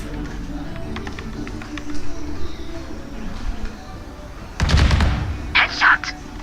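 A gunshot in a tactical shooter video game: one sharp, loud blast breaks a quiet stretch of faint ambience, followed by a few brief chirpy sounds.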